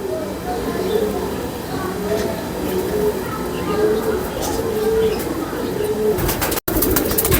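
Pigeons cooing softly among a flock of breeder kabootar kept for flying competitions, low repeated coos over a steady outdoor background with someone talking throughout.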